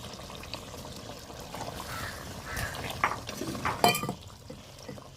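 Water and pieces are added to a cooking pot of half-cooked mango and chicken parts in a home kitchen, giving soft splashes, a pour and light clinks that build near the end, faint and close.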